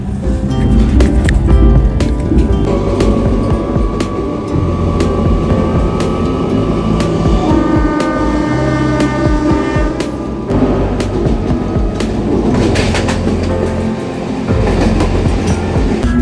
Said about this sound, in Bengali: ট্রেন একদম এক্স্যাক্ট টাইমেই ছাড়লো।